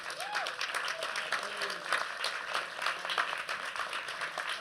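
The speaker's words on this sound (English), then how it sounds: "let's give a round of applause for this really great panel that we have here" Audience applause for a panel at a New York small business week event, steady clapping filling the room with some background voices and a moderate, continuous texture.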